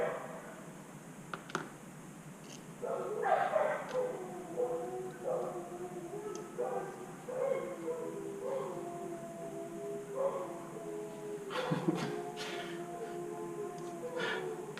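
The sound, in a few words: dogs barking and howling in the backyard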